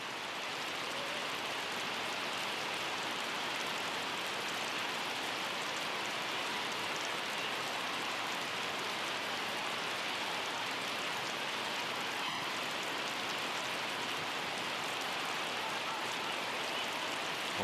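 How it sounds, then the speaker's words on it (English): Heavy rain pours down steadily during a World Cup qualifying football match between Central African Republic and Cape Verde, a dense, even hiss of falling water with no break. "The rain is getting heavier."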